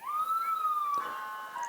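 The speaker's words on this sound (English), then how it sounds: "the sirens are coming down the road right now" At an outdoor 4th of July parade in Park River, an emergency siren wails in one long steady tone that then dips, faint and somewhat distant, with no talk over it.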